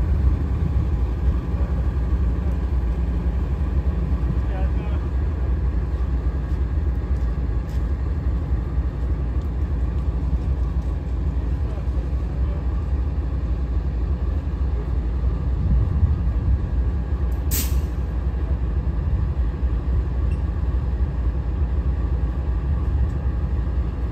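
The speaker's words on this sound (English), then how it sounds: "They had a diesel engine waiting right here when this train got in." An Amtrak diesel locomotive idling at New Haven station, a steady low rumble that holds level throughout, with one brief sharp hiss partway through.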